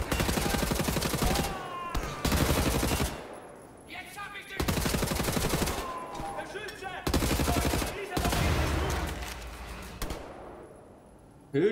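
Loud machine-gun bursts aimed at the player in Wolfenstein: The New Order, several long automatic volleys separated by short quieter gaps, with echoing tails between them.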